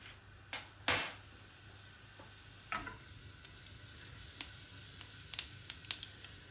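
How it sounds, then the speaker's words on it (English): Cumin seeds crackle in a tablespoon of hot ghee, with scattered sharp snaps and pops over a quiet, low sizzle. Two louder pops stand out early, then a run of lighter crackles follows. "When you hear it snap, crackle and pop"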